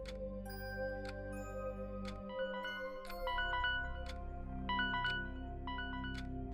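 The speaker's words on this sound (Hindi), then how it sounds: "उसी पल फोन की रिंग बज उठी।" A phone ringtone chimes repeatedly in short melodic bursts over a steady low hum, loud and close.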